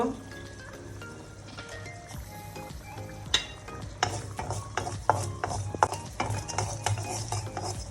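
Garlic fries in a pan for a black cumin mash with a soft sizzle. Scraping, clattering stirs grow busier in the second half.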